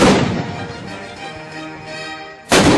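Cannon fire within Tchaikovsky's orchestral music: a loud broadband boom opens, then a sustained orchestral texture rings on, and a second heavy blast hits near the end.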